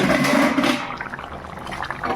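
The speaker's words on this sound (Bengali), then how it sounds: "এখনও ফুটছে" Chicken curry bubbling in a pot on the stove, a steady watery gurgle and bubbling that starts fuller and thins to softer, scattered pops near the end.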